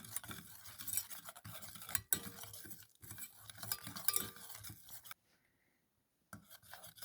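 A spoon stirs butter into a vanilla milk soufflé mixture, giving close, continuous scraping and rubbing strokes against the bowl. The strokes pause briefly near the end, leaving a moment of near silence before they resume.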